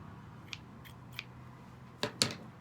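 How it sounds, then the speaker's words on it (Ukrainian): Several crisp scissor snips: a couple of light cuts, then two sharper, louder snips close together near the end, over a faint background hum. "Ножиці,"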